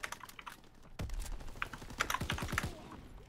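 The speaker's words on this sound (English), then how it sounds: "Yo, who's typing? Stop typing, Haggy." Rapid clicking keystrokes on a computer keyboard come through a voice chat during a ranked Call of Duty: WWII match, a quick close run of keys over faint game noise.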